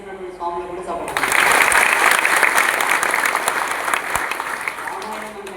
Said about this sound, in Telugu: ఈ 108 హారతులను సెట్ చేస్తున్నటువంటి స్వాములు కూడా చప్పట్లు కొట్టాలి.